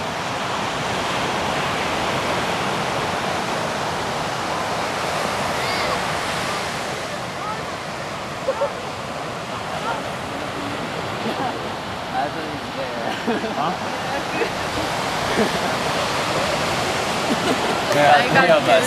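Steady broadband surf from ocean waves at a beach near Monterey and Carmel, California, washing continuously at moderate loudness with a slight swell toward the end; faint voices come through now and then.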